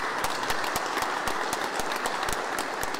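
Audience applause at a county council meeting in Hunedoara, a steady dense wash of clapping from many hands, close and continuous throughout with no speech over it.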